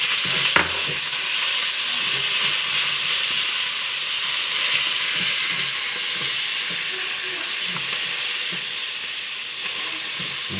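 Chicken mince frying in a pan with ginger-garlic paste, a steady close sizzle with occasional stirring scrapes throughout, no talking.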